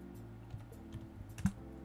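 A few soft, irregular keystrokes on a computer keyboard while drafting a steam stop valve model in AutoCAD, the clicks close and quiet over a low steady hum.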